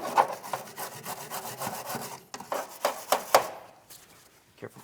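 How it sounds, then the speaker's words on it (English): Wire brush scuffing the rear shock body mounting area on a 2015-2025 Ford Transit 250, heard as a close run of short, irregular scraping strokes with a few sharper bursts, alone without talk. "I'm just going to use a wire brush. Just give it a quick scuffing here."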